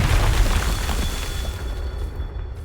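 A Confringo spell explosion in the Hogwarts Legacy video game, a loud sustained rumbling blast with heavy low boom that fades out over a couple of seconds.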